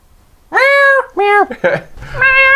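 A cat meows repeatedly in the Phoenix Wright: Justice for All video game, several loud, clear drawn-out meows in quick succession, close and prominent.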